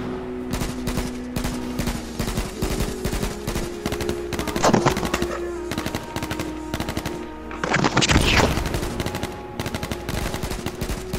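Rapid automatic gunfire from the video game H1Z1 crackles in dense continuous bursts, with a couple of louder blasts standing out, all heard alone without talk.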